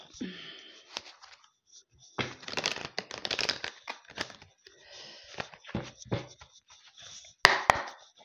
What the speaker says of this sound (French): il faut que je le mélange, le jeu